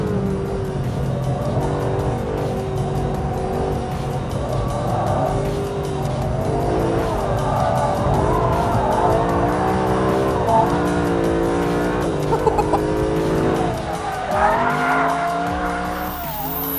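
A 2013 Mercedes-Benz SLS AMG Black Series is driven hard, its engine note rising and falling through gears while the tyres squeal in long sustained howls, loud and close throughout.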